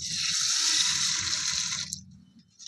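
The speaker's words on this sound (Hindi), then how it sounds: "हम इसमें करेंगे पानी ऐड।" Water pours steadily from a tap into a pot of chana dal for washing, a loud continuous splashing rush that cuts off near the end, with no talking.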